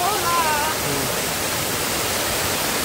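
Waterfall pouring into a natural swimming pool, a steady, loud broadband rush of falling water throughout, with faint children's voices briefly audible early on.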